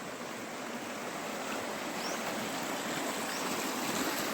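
A stream on the path to Chaulabhaja waterfall in Simlipal, Odisha flows with a soft, continuous rushing wash, faint and steady from start to end with no voices.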